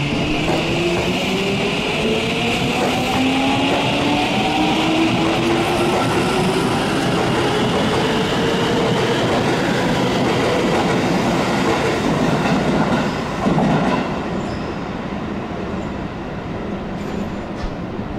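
JR trains move through Chiba Station with a sustained rumble, rising electric motor whine and rhythmic wheel clatter, loud and close for most of the stretch before easing off near the end, with no talking.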